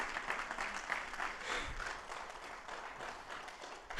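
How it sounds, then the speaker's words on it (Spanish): A church congregation applauds during an Easter-themed sermon, a dense, steady wash of many hands clapping at once, moderately distant and fairly quiet, sustained for about four seconds. "Que se escuche fuerte ese aplauso."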